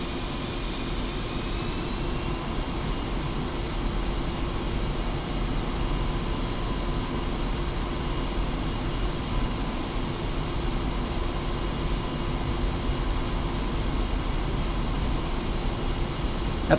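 A jet aircraft taxiing in a combat flight-simulator game, with a steady roaring engine drone and sustained high whining tones that rise slightly early on, loud and continuous with no voices.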